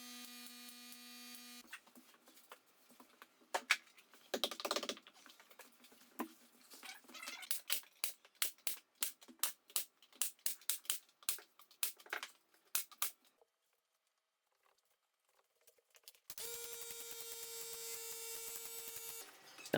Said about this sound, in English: I'm going to tack it in with some crown staples